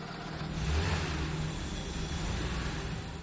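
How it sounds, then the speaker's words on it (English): A restored 1975 Porsche Carrera Targa engine idles steadily with a low, smooth hum and faint higher hiss, loud and close, with no talk over it. "The engine came out beautiful, it sounds great, it purrs like a kitten."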